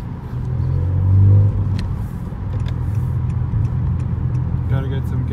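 A 2019–2020 Honda Accord Sport 1.5T with a tuned exhaust drones steadily while driving, a low continuous rumble heard from inside that swells briefly then settles into an even hum.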